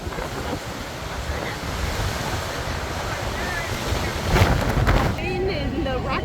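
Strong sea wind buffets the open deck of the cruise ship Navigator of the Seas, a loud, continuous roar with rushing surges and a gust swelling near the end, and a faint voice briefly audible underneath.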